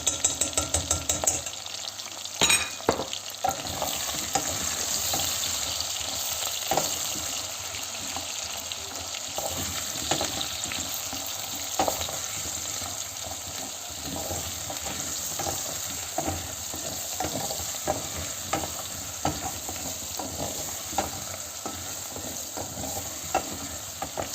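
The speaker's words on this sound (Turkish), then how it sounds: "Arpacık soğanlarımla da biraz çevirdikten sonra içerisine bir yemek kaşığı kadar biber salçası ilave ediyorum." Shallots sizzle and hiss steadily in a hot pan with pepper paste while a spoon scrapes and stirs, a constant loud crackle with frequent small clicks throughout, no voices.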